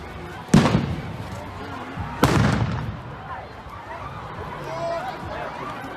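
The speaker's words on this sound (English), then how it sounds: "We got chemical irritants and flashbangs starting now" Flashbang grenades going off at a street riot, two sharp loud blasts a couple of seconds apart that echo off surroundings, with crowd noise and voices beneath.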